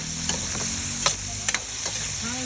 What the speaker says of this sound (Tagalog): ihalo ko na rin ang biniling na baboy. Yung natira pa na sibuyas